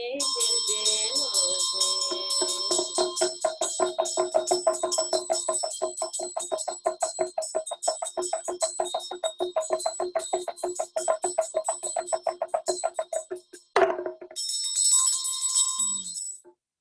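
A small ritual bell held with a vajra during Buddhist prayer, rung in a rapid, steady ringing tremolo for about fourteen seconds, briefly stopping, then resuming; bright, close and sustained, no talk.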